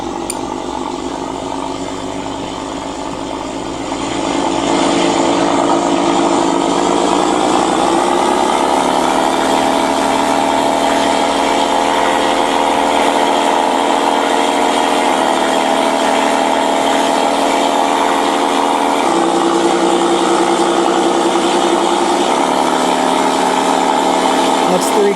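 A Model Sounds Inc RC sound system plays a simulated engine that idles, then rises in pitch and loudness as throttle is applied, a steady loud synthetic drone running continuously.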